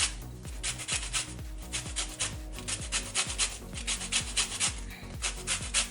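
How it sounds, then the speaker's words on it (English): Whole lemon being grated for zest, steady rhythmic rasping strokes against the grater, close and repetitive, about two scrapes per second. "And now the zest of the lemon,"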